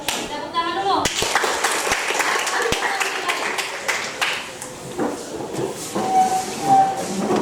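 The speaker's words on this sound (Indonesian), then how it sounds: "Oke, kita tepuk tangan dulu." Students in a classroom clap their hands together in a loose burst of applause that goes on under some speech and background noise.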